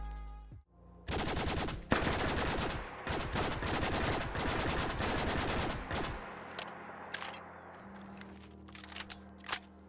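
A unique rifle in Fallout 4 fires in rapid bursts, loud and close, with dense rattling volleys separated by short pauses, then trailing off into scattered single shots and quieter clatter.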